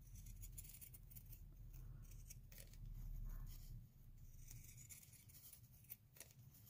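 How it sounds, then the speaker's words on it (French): Pinking shears snip around fabric hearts in a series of close, crisp cuts over quiet background hiss, with no talking. "je vais prendre un ciseau cranteur"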